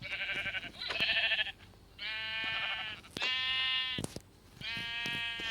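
A series of sheep bleats in a video game, several long, wavering calls one after another, clear and close with brief pauses between them.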